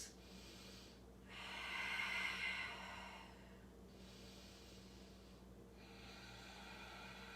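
Slow, deep breaths during a yoga class: a long audible inhale and exhale, then another, close to the microphone and soft against a quiet room hum.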